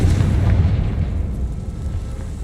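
A Confringo spell explosion in the Hogwarts Legacy video game: a loud, deep rumbling blast that swells at once and then slowly fades.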